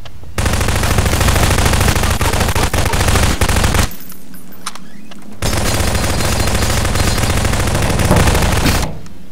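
Rapid automatic gunfire from a Prop Hunt video game match, loud and dense for several seconds, breaking off briefly, then resuming in another long sustained burst.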